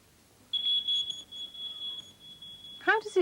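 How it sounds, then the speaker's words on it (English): A smoke detector emits one steady high-pitched electronic beep for about two and a half seconds, with a quiet hum underneath and a voice speaking briefly at the end. "This is a smoke detector."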